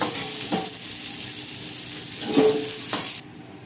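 Potatoes seasoned with turmeric and salt frying in oil in a pan, a steady close sizzle broken by a few spatula scrapes before it cuts off abruptly near the end.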